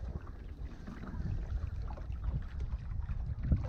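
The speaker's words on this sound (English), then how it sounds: "Ooh, the wind's picking up." Wind rising around a small RS Zest sailboat on Peconic Bay, a steady rushing buffet of wind noise over water sloshing against the hull, continuous and fairly loud, with no talking.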